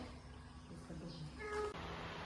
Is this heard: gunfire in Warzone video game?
no